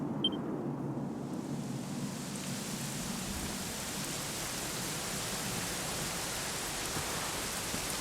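Steady rain in Dragon Quest 11 hisses continuously at a soft, even level, with a faint low rumble underneath and no voices.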